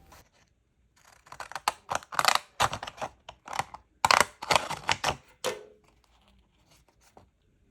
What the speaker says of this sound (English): I'm using some craft scissors, so I'm just going to cut around them.